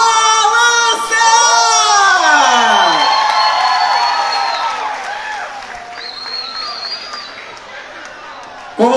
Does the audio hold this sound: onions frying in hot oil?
no